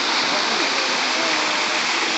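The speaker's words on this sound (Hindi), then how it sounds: "यहाँ पे झरने भी गिर रहे हैं" Waterfall at Prem Mandir temple in Vrindavan, a steady, loud broadband rush of falling water filling the whole moment without a break, close by.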